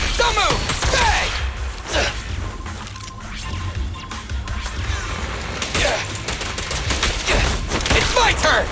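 Rapid gunfire bursts and impact crashes from the video game Zenless Zone Zero, loud and busy with repeated sharp hits across the clip, amid game sound effects.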